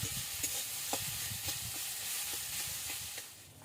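A spoon scrapes and stirs samosa filling of boiled potatoes, peas and chopped coriander in a pan, making rhythmic scraping strokes about twice a second over a faint background sizzle.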